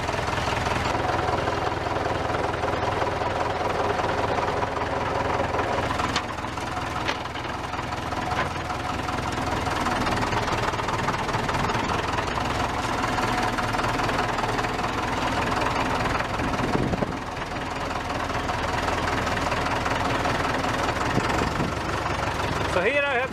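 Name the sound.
tractor engine running and rattling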